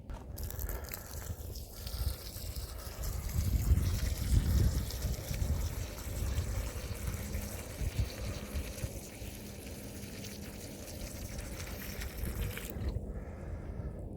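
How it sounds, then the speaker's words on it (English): Water poured directly onto a ground drain in a yard with holey soil, a soft continuous trickle and splash building to a fuller gush midway, then settling into a steady low pour, fairly faint and close, no voices. "I'm gonna pour some water directly on a drain."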